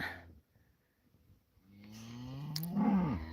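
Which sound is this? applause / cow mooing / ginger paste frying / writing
cow mooing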